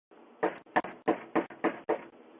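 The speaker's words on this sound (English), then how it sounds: "this banging, this knocking at the door" Six loud, distinct knocks or bangs on a door, spaced unevenly over about two seconds, close and alone over a faint background hiss.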